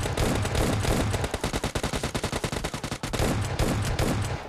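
Rapid automatic gunfire rattles through a PUBG Mobile match, with bursts of closely spaced shots that thin out into a sparser run of single cracks before a few more follow, loud and close with no talk.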